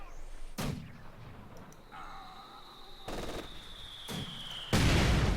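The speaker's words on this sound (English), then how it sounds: "And of course putting some heavy fire on the church here, so it's going to force Paul to escape" Heavy combat in the Company of Heroes 2 strategy game: booming mortar or artillery impacts and rattling machine-gun fire around a church, with MG42 positions in play. Loud bursts hit repeatedly over a steady battlefield rumble and a thin sustained tone.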